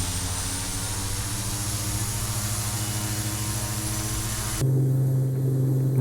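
Steady turboprop drone of a Carenado Cessna Grand Caravan 208B in a flight simulator, a loud even hum with layered harmonic tones that cuts abruptly to a quieter, lower cockpit tone near the end.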